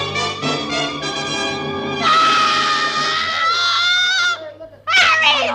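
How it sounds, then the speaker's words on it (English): A woman in a 1949 radio suspense drama lets out a long, loud, high shriek that wavers and breaks off, then a second sharp scream bursts out after a brief pause. "then she threw up her hands and shrieked"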